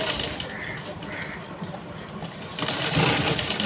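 A sewing machine runs steadily while stitching clothes, including a top, with a continuous mechanical whir that grows louder near the end; a voice is faintly present.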